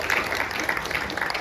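A church congregation at an Indonesian prayer fellowship gives Jesus steady, dense applause, many hands clapping evenly at moderate volume with no pauses.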